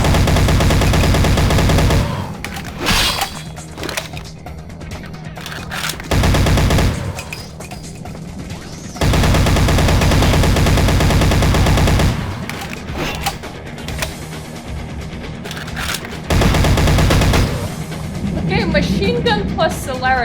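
Rapid machine gun fire in Vampire: The Masquerade Bloodlines, loud sustained bursts with short pauses between them, broken by brief quieter stretches, with a voice speaking over parts of the action.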